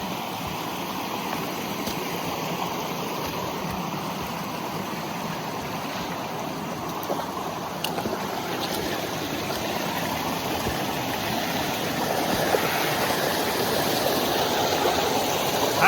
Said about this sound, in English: This last part, you just have to hike through the creek.